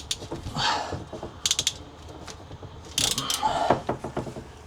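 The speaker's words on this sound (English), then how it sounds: "Bring this one up and clamp it." Hose clamp being tightened on an RV black tank flush line, giving quick ratcheting clicks and metallic mechanism rattles in two short bursts, close and moderately loud.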